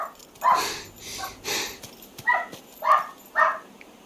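A pet dog indoors gives a run of short, soft yips and whimpering barks, separated by brief sniffing pauses, fairly close in the room with no one talking.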